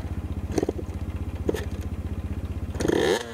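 A two-stroke motorcycle putters at a steady, rhythmic idle, with a couple of clattery blips, then gives a brief sputtering rev before the engine cuts out.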